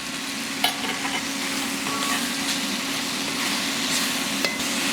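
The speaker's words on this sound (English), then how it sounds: "Now that we at least got a little bit of cook to our mushrooms, We're gonna put our onions in." Mushrooms and onions fry in a pan, a steady loud sizzle filling the whole stretch, with a couple of faint clicks from stirring.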